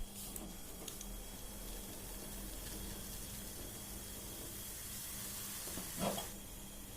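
Masala tea boiling in a pan on the stove, a faint steady hiss and low bubbling throughout with a brief louder burble near the end.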